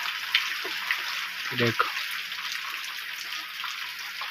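Heavy rain falls as a dense, steady hiss throughout. Someone briefly says a word, and there is a short knock or splash midway.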